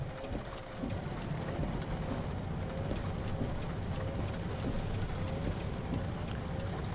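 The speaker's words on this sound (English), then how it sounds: "now the rain picked back up" Steady rain patters and hisses in the truck-driving game American Truck Simulator, driving a Volvo VNL 670, with a low engine rumble underneath throughout.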